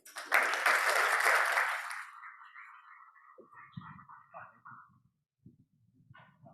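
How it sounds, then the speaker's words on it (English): A conference crowd at a lightning-talks session gives a warm round of applause for a speaker coming up. The clapping is loud for about two seconds and then fades quickly, leaving quieter scattered sounds and some talking. "please give a warm round of applause to Dr. Gary Ackerman"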